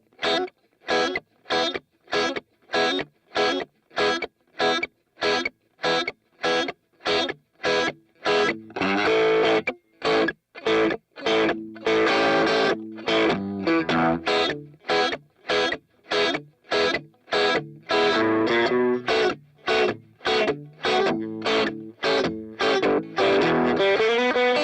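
Distorted electric guitar plays a verse at a slow tempo, a loud driving shuffle of evenly spaced strummed chords running throughout with no talking.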